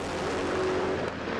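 Drag racing car at a desert track in the Middle East near Dubai, a loud, steady broadband engine roar that holds continuously with no talk.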